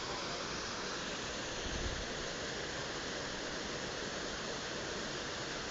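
A waterfall rushes over rock in a mountain gorge, a constant broadband hiss heard steady and moderately distant throughout, with no talking.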